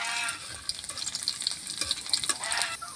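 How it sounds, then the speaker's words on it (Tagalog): Garlic sautéing in a hot pan for a home-style pork and mung bean dish gives a faint, steady sizzle and crackle, with light stirring scrapes over the frying. "Okay, magigisa na po tayo."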